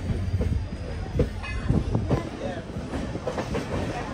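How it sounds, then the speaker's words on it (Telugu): A train hauled by three diesel locomotives rumbles along during monsoon rain, a constant close roar with rhythmic wheel clatter and a brief squeal, and someone talks faintly underneath. "ట్రిపుల్ డీజిల్ లోకోమోటివ్ పుల్ చేయడం"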